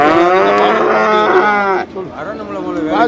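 Cattle at the Manapparai cattle market low loudly for a few seconds, one long close moo with rich harmonics, then a fainter second call as a voice murmurs in the background.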